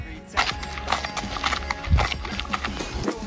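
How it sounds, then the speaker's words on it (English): Horse hooves clip-clop on a trail in a short run of uneven, fairly close knocks over low outdoor rumble, with faint voices in the background. "We haven't seen too many horses on the trail."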